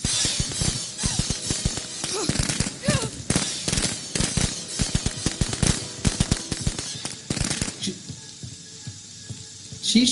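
Firecracker thrown in the Friday the 13th video game crackles as a loud, rapid string of sharp pops and bangs that keeps going nearly unbroken for about eight seconds, then thins out toward the end.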